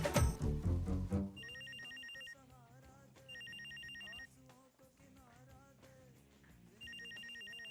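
A telephone rings in repeated double-burst trills during an old Pakistani TV comedy scene, following a loud burst of other sound at the start, with the ringing pattern returning in regular cycles.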